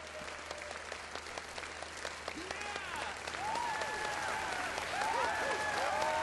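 A crowd applauds in a Saint-Denis theater in the video game Red Dead Redemption 2. Steady clapping swells and grows slightly louder, with scattered whistles over it.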